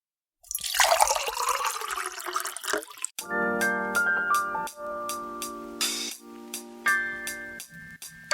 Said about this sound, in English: Pour the coffee.